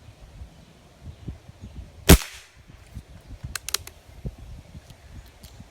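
A single sharp, loud crack of a Crosman .22 Red Flight Penetrator pellet fired from an airgun, standing out alone against faint low background rumble, followed by a few small clicks.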